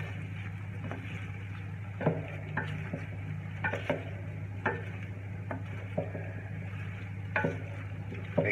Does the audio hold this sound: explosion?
no